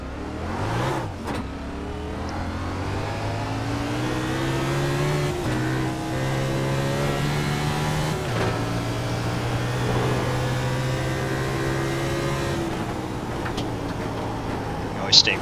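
A race car engine in the iRacing sim at Phoenix drones steadily at high revs, pitch rising and easing through the corners, with a brief shift-like dip; a voice talks over it in places.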